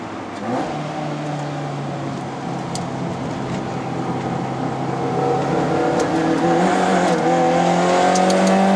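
A Perodua Myvi 1.5L hatchback, tuned to about 120 wheel horsepower, revs and pulls hard uphill toward Genting, its pitch climbing steadily as it grows gradually louder over several seconds, with no talking.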